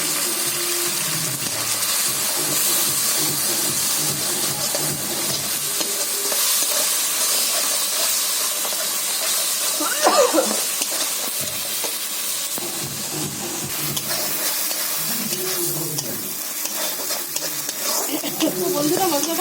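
Masala with Kashmiri chili powder sizzles in a pan for fish curry, a continuous close frying hiss with stirring scrapes and a brief louder clatter partway through.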